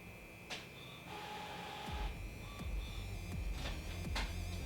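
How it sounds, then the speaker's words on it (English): A home printer works close by, its motor whirring while sharp mechanical clacks and paper-feed rattles land irregularly, building in density toward the end. "That's my printer. I think it's done."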